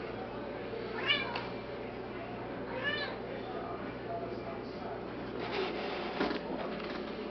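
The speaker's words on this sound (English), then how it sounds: "That's the cat." A cat meows several times, rising and falling calls spaced a couple of seconds apart, fairly close, over a steady low background hum.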